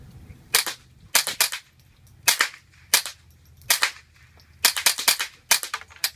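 Suppressed .22 rimfire Mini Mag rounds from an integrally suppressed barrel strike an orange plastic popper target, giving about a dozen sharp, fairly quiet cracks in irregular pairs and quick bursts, with no talking.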